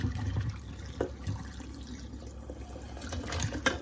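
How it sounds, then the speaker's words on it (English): Boiled eggs drained in a kitchen sink: a quiet, steady wash of running and splashing water with a few brief sloshing bursts, heard alone without talk. "So we are going to take them over, and I'm going to drain them in the sink."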